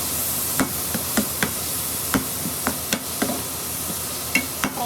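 Tomatoes, onion and garlic frying in a saucepan for butter chicken, with a steady sizzle broken by sharp, irregular clacks of stirring against the pan, close and fairly loud.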